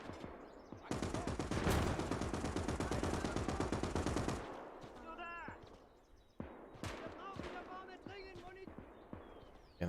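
Machine gun fire in the WWII game Gates of Hell, a gunner holding a trench position: a loud, rapid sustained burst for several seconds, followed by scattered single shots and voices talking amid the battle.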